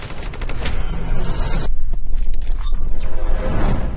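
Gunfire in Hitman: Absolution, loud rapid bursts of shots with mechanical clatter, dense firing at first and then scattered sharp reports.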